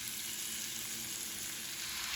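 Peppers fry in a pan with a steady, fairly quiet crackling sizzle that holds constant throughout, close up and with no talking.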